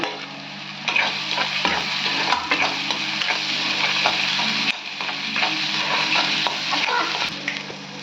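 Chicken pieces with green chillies sizzle steadily in a hot pan for chicken thokku, with repeated scraping stirs of a spoon against the metal.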